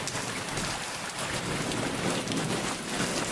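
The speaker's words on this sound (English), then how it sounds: "And now it's raining again." Steady, dense rain pours down outdoors during flooding, a constant hiss of drops on water and surfaces with no pauses and no voices.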